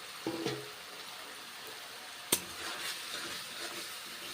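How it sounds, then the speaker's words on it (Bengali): Pointed gourd frying in a pan with spices gives a steady soft sizzle and hiss, with a brief sharp utensil clack near the middle. "পটলগুলো মশলার সঙ্গে ভেজে নিচ্ছি।"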